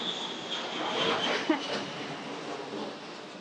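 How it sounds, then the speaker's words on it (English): A steady broadband roar of an airplane passing overhead near Old Airport Road in Singapore, building slightly then holding at a moderate distance. "going to wait for the plane to pass."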